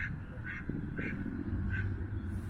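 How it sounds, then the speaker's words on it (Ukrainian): Two ducks quack in short bursts on a park pond, several calls spaced about half a second apart, close by over a low background rumble. "От до мене підпливає дві качки."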